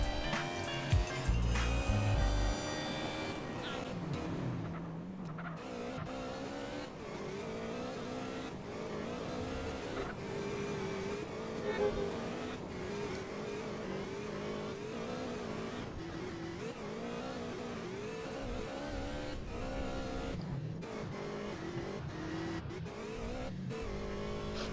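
A car drives toward San Fierro in GTA San Andreas, its engine droning and revving steadily up close for the whole stretch, with a short burst of blocky noise at the start and bumps along the way.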